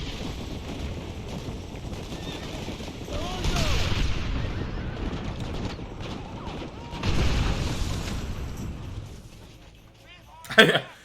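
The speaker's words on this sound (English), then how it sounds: "Technically, I should have been much too close to that explosion." Explosions and gunfire in the Resident Evil video game: two heavy booming bursts rumble a few seconds apart, followed by a short, sharp crack near the end, all at moderate loudness.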